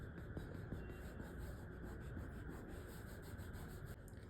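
A finger rubbing to blend pencil shading on sketch paper, a faint continuous dry scuffing with rhythmic strokes, quiet and close.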